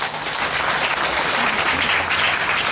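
An audience at a religious lecture claps for a few seconds, loud, close and steady, with no voices over it.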